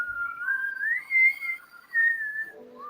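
A person whistles a short, wavering melodic tune, imitating the little whistle of a Gizmo doll, with gliding pitch and a few brief phrases, close and clear.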